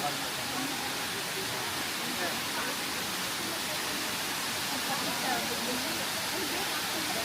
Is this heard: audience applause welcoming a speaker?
no